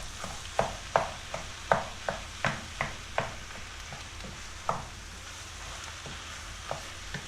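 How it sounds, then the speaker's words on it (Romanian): Minced meat fries with softened vegetables in a pan as a spoon stirs it, giving about a dozen sharp scraping knocks over a soft, steady sizzle, close and fairly quiet. "Când legumele s-au înmuiat, adăugăm carnea. Amestecăm bine în ea pentru a desface carnea."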